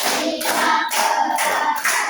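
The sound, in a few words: rhythmic clapping to a counted classroom clap routine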